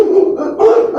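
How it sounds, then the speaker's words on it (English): Dogs bark in quick, loud repeated yelps close by, a short burst of overlapping barks with no talk. "some dogs barking"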